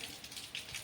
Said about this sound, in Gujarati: ફાઇનલી તો એક લાંબો એવો બ્રેક મારી લીધો તો વરસાદે અને ફરી પાછો આવી ગયો